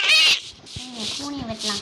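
Video game cat meowing, a few short bright mewing calls at close range, with talk partly overlapping.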